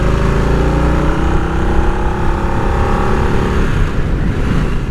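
A Harley-Davidson Nightster motorcycle engine drones steadily and loud while riding at highway speed, with wind rush over the low rumble and no talk.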